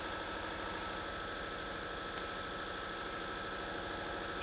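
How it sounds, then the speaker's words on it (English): An air compressor runs in a garage during a Mustang GT rebuild, giving a steady, even mechanical drone with constant vibration that never changes over the whole stretch. "Wait to listen to the compressor."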